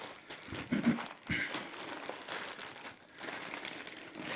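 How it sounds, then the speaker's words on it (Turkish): Plastic cargo shipping bag being torn open for a Xiaomi Redmi 9 phone unboxing, with close, quiet crinkling and rustling in irregular bursts and no talk. "Kargo poşetini dahi birlikte açıyoruz"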